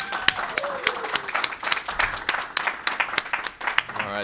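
Convention crowd at New Jersey HorrorCon, gathered for a Don't Tell Mom the Babysitter's Dead reunion panel, claps and cheers in a dense, steady burst of applause, with scattered whoops over the noise.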